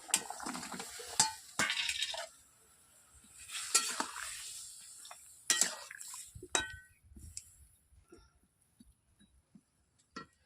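Cauliflower tipped into a pan of boiling liquid on a gas stove: bursts of sizzling, clinks and scrapes of stirring up close, growing sparser and fainter toward the end.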